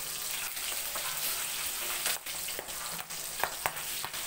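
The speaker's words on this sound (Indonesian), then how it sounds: "Digoreng garing" Fish caught from the Mahakam river frying crisp in hot oil, a steady dense sizzle throughout with a few sharper pops and crackles toward the end, close and loud, no talking.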